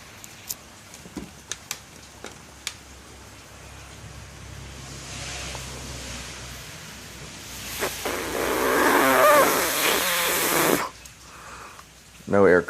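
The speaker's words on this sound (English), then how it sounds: "I hooked this air hose up, and now I'm gonna blow" Compressed air from a hose blasts into a Quadrajet carburetor, a loud rushing hiss that comes in bursts near the end after quieter handling noises and clicks.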